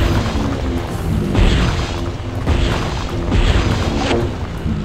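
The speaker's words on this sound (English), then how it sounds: "Attack to activate the Justice Cannon." Justice Cannon weapon firing in a Fairly OddParents video game, heard as repeated booming blasts with crashing bursts roughly every second, loud and dense under game music, with no talk.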